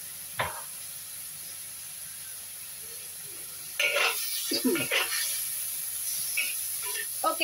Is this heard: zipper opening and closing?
no